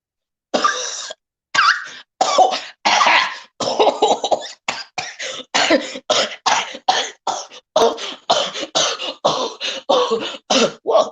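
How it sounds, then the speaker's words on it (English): A person coughing repeatedly and loudly close up, a long series of short harsh bursts in quick succession with brief gaps, nothing else heard. "Whoa, who's that coughing?"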